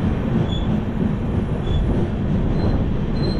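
A moving passenger train on a journey toward Siliguri, heard from inside as a steady low rumble with faint wheel squeals and clatter, continuous and fairly loud throughout.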